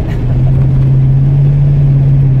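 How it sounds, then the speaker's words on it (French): A 1969 Ford Mustang with a 351ci V8 pulls away under acceleration, a loud, close, steady low engine drone with a sustained deep tone and no rise in pitch, heard without talk for a couple of seconds. "on fait une petite accélération. Ah oui. Et elle part très bien cette Mustang"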